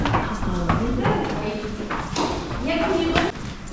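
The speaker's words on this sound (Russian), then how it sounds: "Коня выводят." Horse hooves clip-clop in a steady walking rhythm as a horse is led out at a racetrack in a Lithuanian village, with a person talking over the hoofbeats throughout.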